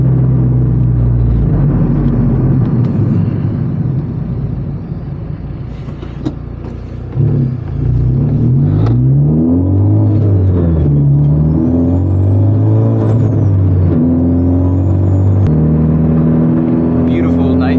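A modified turbocharged Honda Civic Type R of about 500 horsepower revs hard from inside the car, rising and falling through gears with rumbling drone, wastegate rattle and turbo whistle, loud and close, with brief speech over it.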